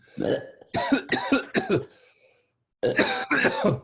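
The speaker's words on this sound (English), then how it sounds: "Go ahead and just cough it out" Several harsh coughs and throat clearings come in quick bursts, a pause of near silence, then two more rasping clears, close and loud.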